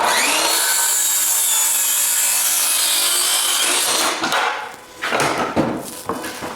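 A circular saw cuts through wood set to a 15-degree bevel with a loud, close, continuous whining rasp for about four seconds, then the blade winds down amid rattles and clunks of the board.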